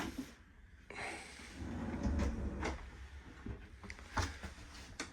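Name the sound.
opening a large IKEA drawer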